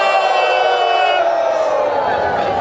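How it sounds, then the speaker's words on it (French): A crowd of voices cheers and whoops together at an evening village festival, a dense, loud, sustained roar of shouting with no single voice standing out. "Applaudissons."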